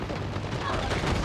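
Rapid gunfire in Uncharted 4 multiplayer, a dense burst of shots crackling continuously over a brief moment.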